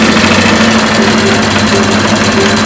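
A sewing machine runs steadily at close range, stitching lacy fabric close to the edge with a constant loud mechanical whir and no voices.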